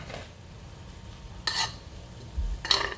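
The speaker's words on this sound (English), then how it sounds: "Actually, I want some more rice, so I'm gonna go ahead and add it now." Cooked rice goes into a pan of salmon and shrimp fried rice, with two faint, brief bursts of scraping and clattering as it is stirred in.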